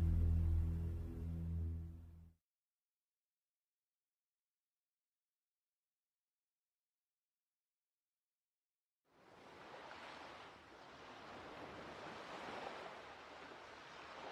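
Sea waves wash around a boat off Onomichi in the video game Yakuza 6, a steady broad surf noise heard near. Music plays first, then about seven seconds of silence, then the water sound rises and continues alone.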